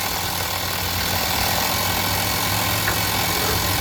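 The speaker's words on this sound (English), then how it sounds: "Oh, drill again, see there? Drilling start, drill again," A rock drill runs at a stone quarry near Peterborough, giving a loud, steady, unbroken mechanical roar and rattle with no pauses and no talking.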